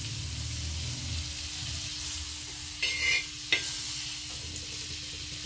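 Butter sizzles in a hot pan for warming pav, a steady close frying hiss with a couple of brief sharper spatters partway through.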